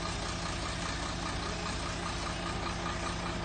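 Isuzu dump truck engine idling, a steady close rumble with an even, unbroken drone and no voices over it.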